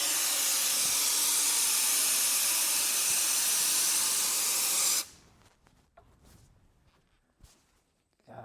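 Great Stuff Wide Spray foam insulation sprayed from a can in a post frame garage: a loud, steady hiss for about five seconds that stops abruptly, followed by faint handling and shuffling noises.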